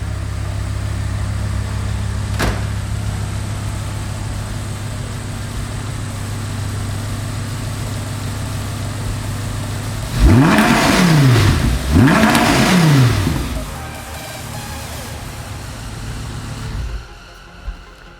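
A warmed-up Audi R8 V10 idles with a steady low drone, then two sharp revs rise and fall in quick succession before it settles back to idle, heard up close with no talking.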